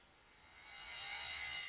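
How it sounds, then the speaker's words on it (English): A washed-out synth key tone from a music production swells gradually from quiet to a soft, airy shimmer, bright and hazy with no clear attack, and no one talks. "there's a washed out key sound"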